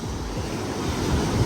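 Ocean waves wash onto a beach around midday, a steady broad roar of surf mixed with wind buffeting the microphone, with no talking.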